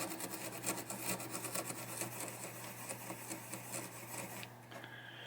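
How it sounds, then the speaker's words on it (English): A Scotch-Brite pad scrubs the stepper switch contacts of a 1976 Gottlieb Ship Ahoy pinball machine, a steady close scratchy rubbing that continues for several seconds, then eases off and thins out near the end. "we're going to take the little Scotch-Brite, and we're going to go over the top of them and clean them up all pretty"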